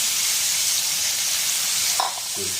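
Two small chopped tomatoes sizzle and fry steadily in a hot pan for a vegetarian drumstick (sajne data) curry, a continuous bright hiss with a brief clatter of stirring near the end.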